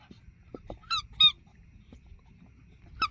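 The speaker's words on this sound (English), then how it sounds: "He absolutely loves his red squeaker." A dog's red squeaker toy squeaks in a few short, sharp bursts, fairly close, with pauses between the squeezes and quiet room sound otherwise.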